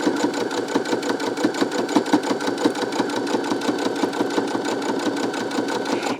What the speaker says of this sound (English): you're just going to sew all the way down